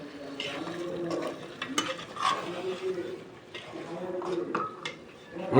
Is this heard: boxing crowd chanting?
no